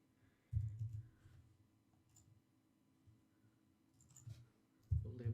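Computer mouse clicks during graphics software work, a few sharp clicks spaced apart in a quiet room, with one louder pair near the start and another near the end.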